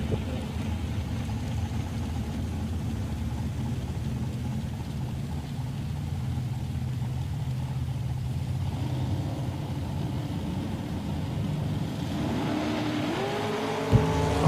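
A dragster and a Studebaker Daytona race down a drag strip at Woodburn, Oregon, with a loud, continuous engine roar heard from a distance and a sharp change near the end.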